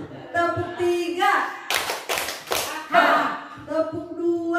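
A group of people clap in quick rhythmic bursts, a dense cluster of claps in the middle framed by a speaking voice before and after, fairly close and loud.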